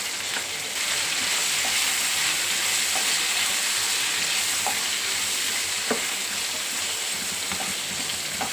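Pieces of ivy gourd (dondakaya) fry with curry leaves and turmeric in a pan on high flame, giving a close, continuous sizzle with occasional soft stirring taps.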